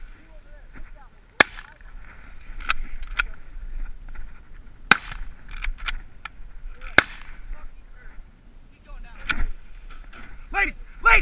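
Shotguns fire during a goose hunt with a dog along, several sharp cracks spread across the clip at varying distances, with geese honking and people calling out between shots.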